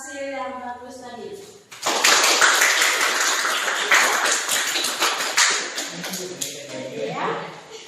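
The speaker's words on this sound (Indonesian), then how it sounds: "Mari kita beri tepuk tangan buat kelompok yang menunjukkan hasil yang bagus tadi." Students in a university classroom break into clapping for a group, a lively burst of many hands that starts abruptly after a moment of quiet talk and continues fairly close, with some voices mixed in.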